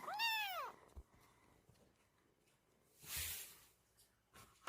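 A kitten meows once, loud and close, with a rising-then-falling cry at the start. Soft handling rustles follow, then a brief breathy burst near the end.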